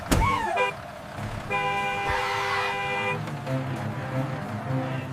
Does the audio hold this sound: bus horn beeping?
yes